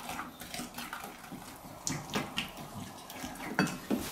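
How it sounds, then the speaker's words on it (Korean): Seasoning sauce of sugar and garlic being stirred in a bowl gives faint, irregular clinks and scrapes of a utensil against the dish, heard close up with no talking. "설탕이 다 녹을 때까지 이렇게 좀 잘 섞어주시면 됩니다."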